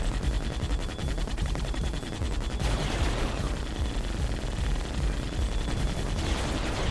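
Dense, sustained mech gunfire from the VR game Archangel Hellfire, a loud continuous barrage of rapid shots and blasts filling the whole stretch without pause.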